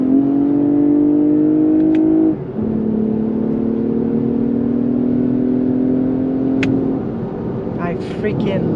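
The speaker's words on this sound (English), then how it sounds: "Manual shift, downshift." A Lexus ES 350 F-Sport engine drones steadily under acceleration, drops in pitch as a manual downshift lands, then settles into a lower sustained hum with faint road noise.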